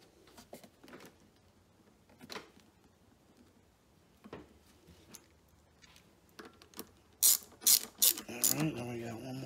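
Wrench ratcheting nuts tight during a gas-to-propane conversion of a CFMOTO i30 3000-watt generator: scattered quiet clicks and ticks, then a louder, quick run of ratchet clicks toward the end.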